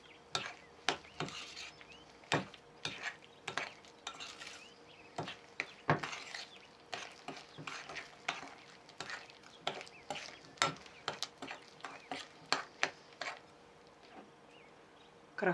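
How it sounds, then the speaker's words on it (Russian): Shortbread cookie dough with nuts being stirred in a bowl, a steady run of quiet scraping and clicking strokes close by with no voices. "перемешиваем"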